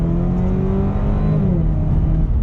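A 2019 Chevrolet Camaro turbo pulls away under throttle, its engine drone rising steadily in pitch, loud and close from inside the cabin, with no talking.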